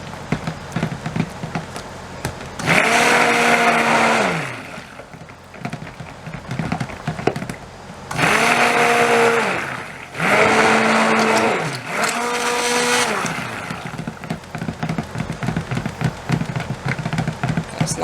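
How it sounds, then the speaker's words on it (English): A stick blender mixing lemon pound cake soap batter in a bowl, running in three loud bursts of a few seconds each, with its whirring pitch rising and falling and quieter gaps between. "it will once I hit it with the stick blender"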